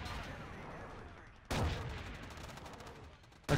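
Artillery fire in Battlefield 2: a faint rumbling barrage with a sharp heavy blast midway and another at the end, each trailing off into a continuous low roll.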